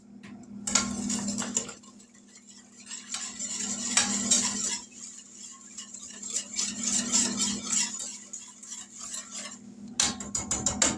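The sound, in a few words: stirring coconut cream pie filling with spoon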